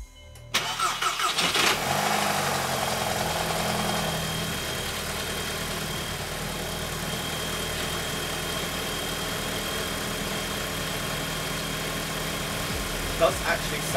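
A Volkswagen MK5 Golf GTI engine idles steadily just after an oil service, a continuous close-up drone following a brief louder burst near the start, with faint talking underneath.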